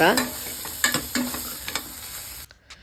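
Onions being sautéed over low heat in a pan for a Kolhapuri whole masoor curry, with spatula scrapes and stirring strokes over a soft steady sizzle, close and alone.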